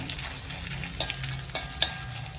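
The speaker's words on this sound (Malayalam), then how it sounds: "കുറച്ച് തേങ്ങ പൊടിപ്പൊടിയായിട്ട് അരിഞ്ഞതും കൂടെ ചേർത്ത് കൊടുക്കാം നന്നായിട്ടൊന്ന് മൂപ്പിച്ചിടുമ്പോൾ നല്ല ടേസ്റ്റാണ്" Grated coconut frying in hot oil in a pan while cooking a horse gram thoran: a steady soft sizzle with a few light scrapes of stirring, close and alone.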